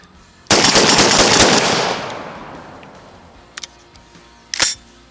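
A loud metallic burst and clatter rings out and slowly decays as a SPAS shotgun's action is racked, followed by two small clicks and a sharp mechanical clack near the end.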